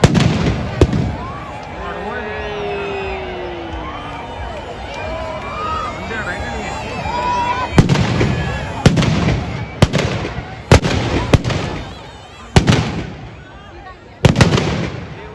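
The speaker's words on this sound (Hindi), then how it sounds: "रावण के पैरों में जितने पटाखे फोड़ लो कुछ नहीं होने" Firecrackers burst repeatedly at the feet of a Ravana effigy during a Dussehra celebration: sharp, loud bangs come in a quickening irregular series, with a crowd talking and shouting throughout.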